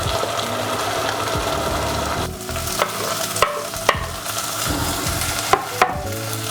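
Diced capsicum sizzles steadily in a hot pan while a utensil stirs it, with a few sharp scraping clicks of the spoon against the pan standing out over the continuous frying hiss.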